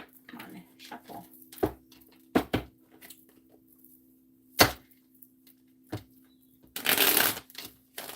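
Scattered clicks and taps of tarot cards being handled, ending in a short riffling shuffle, close up with a faint background hum.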